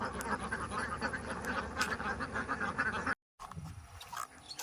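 A flock of ducks in a Kerala village, kept in a cage beside a pond, quacks continuously at close range, with a brief cut of silence near the end before the calls resume.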